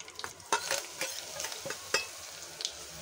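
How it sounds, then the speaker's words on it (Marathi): A coarse-ground masala paste with curry leaves fries on low heat for Maharashtrian katachi aamti, quiet sizzling punctuated by several sharp spatula scrapes and taps against the pan, with no speech. "आता आपण जे जाडं वाटण वाटलं होतं ते टाकून खरपूस परतून घेऊया"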